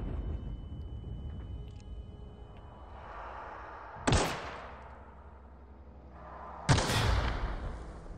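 Two sharp gunshot blasts from shooting enemies in The Outer Worlds video game, each a loud crack with a decaying tail, spaced a few seconds apart over low ambient game rumble.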